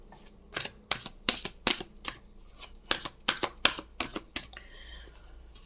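Tarot cards being shuffled by hand, a close series of crisp riffling bursts in an irregular rhythm with short pauses between, loud and alone without talk.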